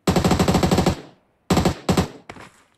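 Gunfire from the mobile game PUBG Mobile: a loud, close automatic burst of about a dozen rapid shots, then a pause and a few shorter bursts and single shots.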